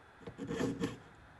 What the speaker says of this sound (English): Continue sawing jump rings.